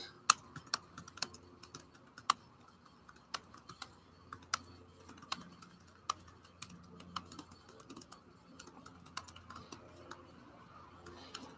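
A computer keyboard is being typed on in an irregular run of sharp, close key clicks with short pauses between keystrokes. A faint low hum sits underneath.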